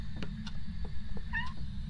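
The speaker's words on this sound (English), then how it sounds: "This black cat has orange eyes." A black cat meows a few times, short faint cries with a longer clearer one near the end, over a steady low background hum.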